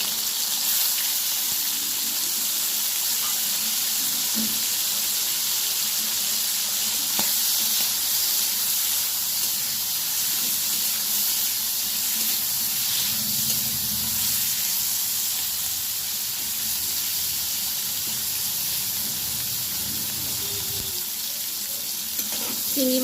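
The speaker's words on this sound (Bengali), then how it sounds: "আমি এবারে চিংড়ি মাছগুলো ভেজে নেব।" Shrimp fry in hot oil in a heated kadai, producing a loud, continuous crackling sizzle with occasional stirring noises and no speech.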